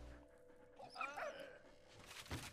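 A dog in the World War I game Valiant Hearts gives a short, fairly quiet bark-like yelp and whine in the middle of the moment, against a low background hum.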